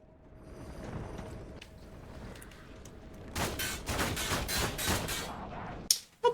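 Video game gunfire in Resident Evil: after a quiet stretch, a burst of rapid shots rattles out at moderate loudness for a couple of seconds, then a sharp final crack near the end.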